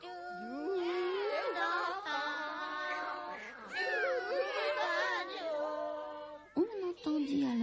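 Human voices imitate a group of cats singing out of tune, producing a wavering, overlapping caterwauling cacophony of yowls and meow-like wails that rise and fall for several seconds before breaking off.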